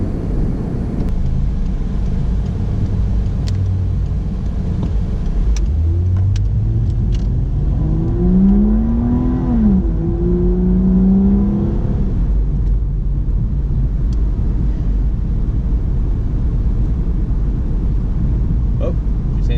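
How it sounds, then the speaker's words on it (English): Interior of a Ford FG XR6 driving while being checked for a variable cam timing fault: a steady loud low road and engine rumble throughout, with a brief rising rev in the middle and no talk. "I'm going to drive for another 15 because I've only been driving for like 5 minutes or so"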